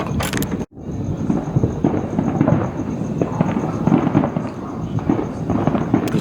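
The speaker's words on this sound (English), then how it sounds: "you might be able to hear all the fireworks" Fourth of July fireworks burst and crackle continuously on a smoky night, a dense run of distant and nearby pops and booms with a brief dropout near the start and no talking.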